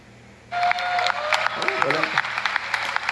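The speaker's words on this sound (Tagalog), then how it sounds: "grabe yung mga palakpakan nila dito, no?" Applause breaking out in a congressional session hall, a crowd's clapping starting abruptly and continuing loud and dense, with voices and a few sharp tones mixed in.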